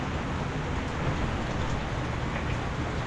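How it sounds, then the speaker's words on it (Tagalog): Steady rain pours down as a continuous dense hiss, even and unbroken throughout, with no voices. "Hindi pa natigil ang ulan"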